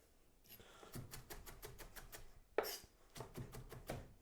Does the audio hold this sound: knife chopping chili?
yes